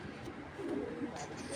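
Pigeons coo softly in a low, rolling murmur over a steady background hum, with a blue checker racing pigeon cock from a club loft among the birds nearby.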